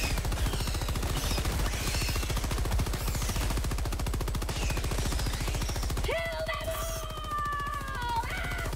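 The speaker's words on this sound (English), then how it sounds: "this stalwart shoots so fast" The Stalwart machine gun in Helldivers 2 fires in one long, very rapid, evenly spaced stream of shots, loud and close, then stops as bright electronic tones take over.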